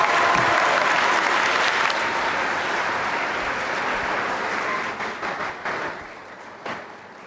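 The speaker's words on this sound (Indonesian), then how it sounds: "Mari kita berikan tepuk tangan sekali lagi yang meriah" Audience applause fills a school arts-performance open house, a dense, steady wash of many hands clapping that gradually thins and breaks into scattered claps toward the end.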